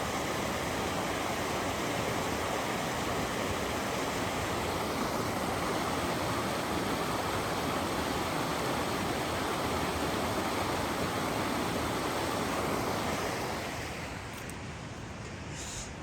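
Camp Creek at a forest campground rushes past nearby in a continuous, full, even roar of flowing water that eases slightly in the final seconds.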